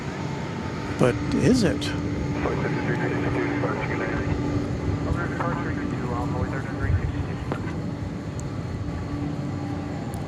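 A large airplane departing DFW Airport for Chicago Rockford roars with a loud, sustained broadband engine rumble, while a voice speaks over it at close range.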